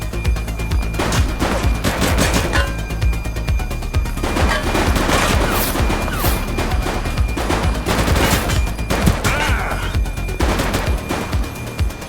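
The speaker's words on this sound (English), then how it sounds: "He's shooting!" Gunfire erupts in the police video game The Precinct: loud, rapid bursts of automatic fire and single shots, crowding together with brief gaps.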